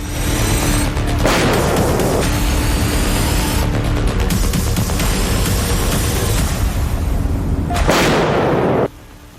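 Gunfire and artillery ring out on a Ukrainian front line in the south near the Dnipro River, with repeated loud booming blasts and bursts of shots echoing across the whole stretch before cutting off near the end.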